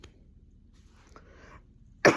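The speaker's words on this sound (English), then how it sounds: "I'm coughing up a storm." A single sharp cough from a woman bursts out suddenly at the end, loud and close, after near silence.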